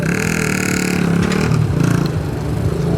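Skybike QM200 motorcycle downshifting and braking, a loud close engine note that drops and blips with a burbling, popping exhaust as revs fall, heard alone.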